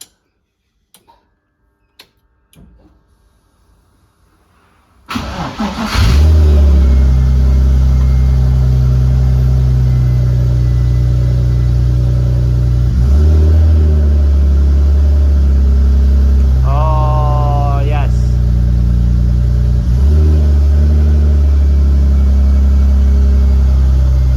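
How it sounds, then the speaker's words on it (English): Near silence with a few small clicks, then a BMW E46 competition car engine starts and settles into a steady, loud idle rumble that continues to the end. "just start it up again, Robert."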